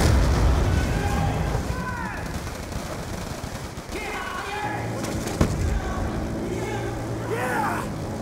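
Call of Duty Black Ops II battle in Pakistan, 2025: a grenade blast within heavy automatic gunfire and explosions, sustained and loud, with shouted voices over the combat.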